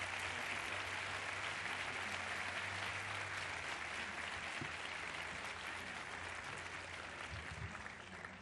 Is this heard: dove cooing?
no